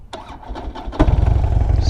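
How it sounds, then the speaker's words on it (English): A motorcycle engine cranks with a short starter whir, then catches at once into a loud, steady idle that chugs on, close by and alone. "start your engines"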